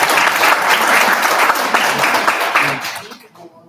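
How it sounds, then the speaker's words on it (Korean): Loud, dense applause from a church audience at a Christmas Eve service, sustained for a few seconds and then tapering off toward the end. "박수 한번 부탁드립니다"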